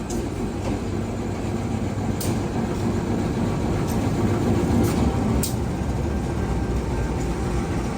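A passenger train rolls past in a continuous heavy rumble of wheels on rails, loud and close, with brief higher squeals and clanks from the carriages and no talking.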